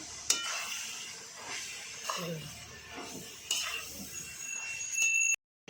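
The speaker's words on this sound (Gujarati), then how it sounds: "થોડો ધાણા પાવડર નાખીશું ને આપણે મિક્સ કરી લેવાનું છે" Radish greens curry is stirred in a pan with coriander powder, turmeric and spices, making soft scraping and sizzling strokes with a few light metallic clinks from the spoon.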